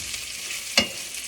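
Finely sliced onion drops into hot oil for a cabbage and potato sabzi, giving one sharp splash and hiss over a steady background sizzle.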